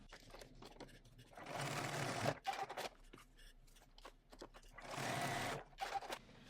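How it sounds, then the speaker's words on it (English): A sewing machine stitches a canvas bag near its raw edge, two rapid whirring runs of stitching separated by a short pause with light handling clicks, heard close with no speech. "I'm going to go to my sewing machine and I'm going to stitch up from the raw edge about 1 inch or so"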